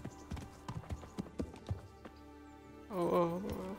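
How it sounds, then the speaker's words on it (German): A horse's hooves clip-clop in an uneven run of hollow knocks in Kingdom Come: Deliverance, close and fairly clear, ending in a short neigh or whinny. "Bist du mein neues Pferd?"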